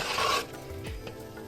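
Crushed almonds stirred through a hot starch mixture with the stove off, giving a loud scraping rasp at first, then softer rubbing and scraping strokes.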